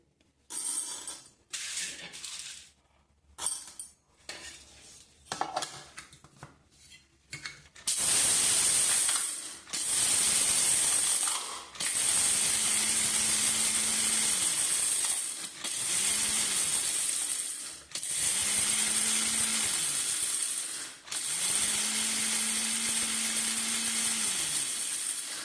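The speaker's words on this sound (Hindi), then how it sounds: "फिर हम मिक्सर जार में इसको डाल करके हम हाफ ग्राइंड करते हैं" Mixer grinder half-grinding cleaned maize kernels in a steel mixer jar, running in several loud whirring, rattling bursts of a few seconds each with short pauses between, after some quieter clinking handling at the start.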